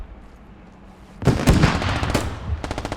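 Rapid bursts of automatic gunfire erupt in a Squad firefight after a quiet moment, loud and close, with a dense rattling volley followed by a second short string of shots.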